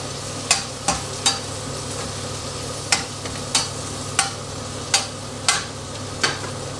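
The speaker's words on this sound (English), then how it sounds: "boil a lot of butter, add a shallot, chestnut mushrooms," Shallot and chestnut mushrooms cooking in plenty of butter in a pan, with a steady soft sizzle under a series of sharp utensil clacks and stirring scrapes spaced through, no voices.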